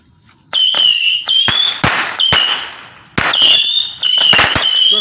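Backyard fireworks going off close by: a rapid series of loud bangs and crackling bursts, some with whistling squeals, in irregular clusters.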